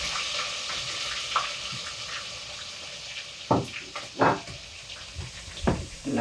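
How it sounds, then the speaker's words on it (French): Onions frying in a pan in a Senegalese home kitchen, steady hiss and crackle with a few louder bursts of sizzle and stirring scrapes, close and continuous. "Je mets les oignons."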